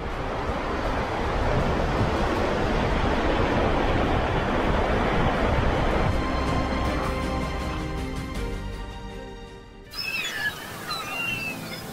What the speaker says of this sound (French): Pris dans le tourbillon de ces vents et la déferlante des vagues